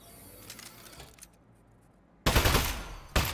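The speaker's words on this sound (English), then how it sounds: "Presenting the Aperture Science Turret." An Aperture Science Turret in the video game Aperture Desk Job lets off loud rapid-fire bursts of automatic gunfire, close up, following a quieter stretch of faint mechanical sound.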